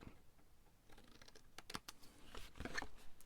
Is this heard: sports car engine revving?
no